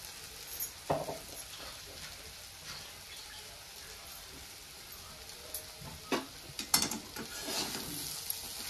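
Pea chutney, coarsely ground with green chili, being stirred in a pan: faint, soft scraping and shuffling with a few brief clinks and spikes near the end, low and close.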